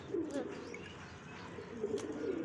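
Pigeons kept for breeding coo softly in low, rolling phrases, with a couple of repeated calls heard close by over a quiet background hum.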